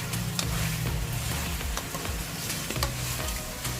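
Carrots fry in a pan with a continuous, even sizzle, broken by the scrape and clatter of stirring at irregular moments.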